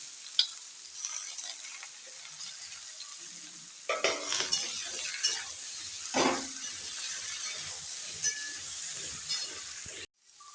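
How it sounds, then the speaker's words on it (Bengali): Chopped vegetables, including spinach, sizzle and crackle as they are stir-fried in hot oil with panch phoron and green chillies, with steady frying hiss and bursts of stirring scrapes against the pan throughout. "এইবার আমি দিয়ে দিচ্ছি সবজিগুলো সব ভাজার জন্য।"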